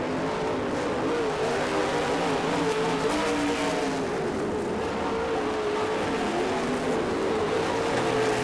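Race cars on the last laps of a race at a track, a continuous loud engine drone with wavering pitch as several cars circle close by, with no pauses throughout.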